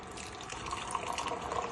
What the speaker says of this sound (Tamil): நல்லா கொதிச்சிருச்சு, வடிகட்டிக்கலாம்.